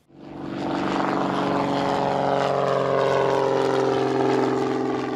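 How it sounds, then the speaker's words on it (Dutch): A propeller airplane used for skydiving at Midden-Zeeland airfield drones loudly and steadily, its engine hum rising from quiet to a constant near roar and holding for several seconds. "het springen uit een vliegtuig is sinds de coronapandemie bij Vliegveld Midden-Zeeland steeds populairder geworden"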